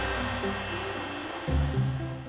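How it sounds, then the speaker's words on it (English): A slow-spinning buffing machine polishes the paint of a 1987 Ford Capri Laser with abrasive paste, giving a steady loud droning whir that shifts pitch and grows heavier partway through, with no talking. "this is like a buffing machine. It looks like a grinder, but it spins a lot slower than a grinder"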